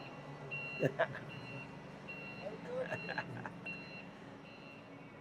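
Forklift reversing beeps sound in a steady series of evenly spaced electronic tones at moderate distance, heard under background chatter and shop-floor noise with a few brief louder knocks.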